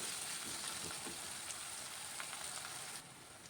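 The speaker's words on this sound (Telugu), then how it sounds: "అల్లం వెల్లుల్లి పేస్ట్ చక్కగా వేగింది." Ginger garlic paste and turmeric frying in a pan for an amaranth leaf curry, a steady soft sizzle with crackling pops throughout that drops slightly at the end.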